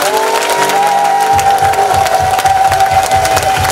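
Loud, sustained applause and cheering from a church congregation at a Paris vigil, hands clapping in a quick rhythmic beat under a sustained tonal sound, with crowd noise filling the space throughout.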